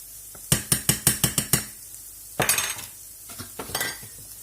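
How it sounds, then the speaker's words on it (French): After brewer's yeast is added, a spoon stirs the mixture in a bowl, first as a quick run of about eight even metallic clinks. After a pause come a few scraping, clattering strokes, all close and fairly quiet. "remue bien pour que ce soit bien, le goût aille bien dans tous les coins"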